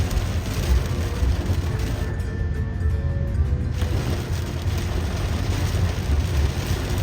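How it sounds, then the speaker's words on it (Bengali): Heavy rain falls while a car drives along a highway in Southwestern Ontario. It makes a steady, enveloping roar of road and rain noise inside the vehicle, with a brief dip midway. "প্রচন্ড বৃষ্টি শুরু হয়ে গেছে।"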